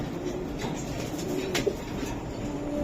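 Racing pigeons coo in a low, murmuring tone, faint against steady background noise, with no talking.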